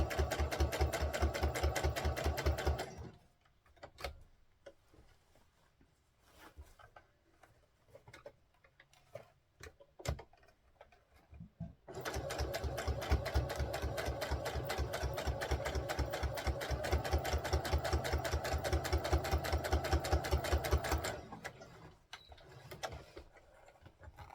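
A sewing machine runs close and steady, joining layers of tulle on a doll dress. A rapid rhythmic stitching stretch comes first, then a quieter gap with scattered clicks, then a longer sustained run.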